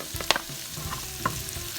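Tomato sautéing in a pan for chicken kimchi fried rice gives a brief sizzle broken by a few sharp stirring scrapes, close and fairly loud, with no voices.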